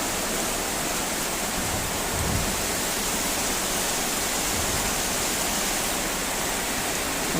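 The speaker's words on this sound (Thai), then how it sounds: "ฝนตก" Steady, dense rain pouring down, a broad continuous hiss with no breaks and no voices.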